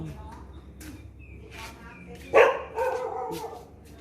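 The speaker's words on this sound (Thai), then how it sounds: "แต้มก็เห่า" A dog barks a couple of times, moderately close, with quieter background sounds and faint voices around it.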